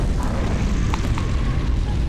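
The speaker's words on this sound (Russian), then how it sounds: "Это был жесткий взрыв." A deep bomb explosion rumble in Garry's Mod fills the clip, a sustained low roar with a few faint crackling pops on top, moderately loud.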